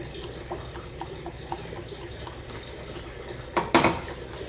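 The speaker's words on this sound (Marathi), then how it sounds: "सारखं ढवळत राहायचं आहे." Hot milk is stirred in a pot on the stove with soft, regularly spaced scrapes of a spoon, ending in a louder clatter of metal against the pot, with no talking.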